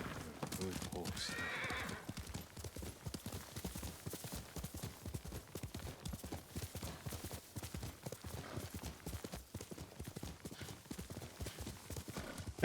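Hooves clip-clop in a steady brisk rhythm while a horse neighs at the start in the video game Ghost of Tsushima, close and clear, with a voice talking over the gallop.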